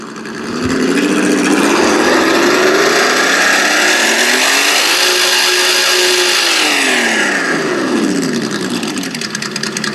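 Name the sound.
RC car engine sound module revving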